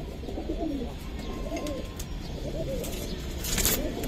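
Several pigeons coo softly and continuously in a loft of giribaz and coloured breeds, low rolling calls overlapping under steady background noise.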